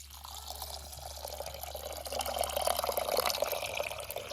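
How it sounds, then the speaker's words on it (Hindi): Water poured steadily from a tap or vessel onto toor dal (arhar dal) in a cooking pot, a continuous close splashing and filling sound that swells slightly louder toward the end, with no talking. "अब इसमें ऐड करेंगे हम पानी"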